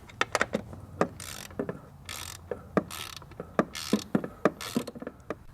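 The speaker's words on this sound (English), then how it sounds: "we're going to torque these to factory spec, going from inside to outside in a crisscross motion" A wrench ratchets and clicks while tightening the valve cover bolts on a BMW M54 engine from a 2000-2006 330i or 530i. Short, sharp clicks come in irregular clusters, with brief ratcheting bursts between them, close and clear.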